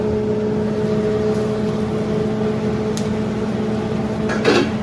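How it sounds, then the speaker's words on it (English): A kitchen exhaust fan runs while bacon cooks, making a constant loud whir with steady tonal hum lines. A faint sizzle sits underneath, and a brief clatter near the end breaks in. No one speaks. "we got to put the fan on because bacon"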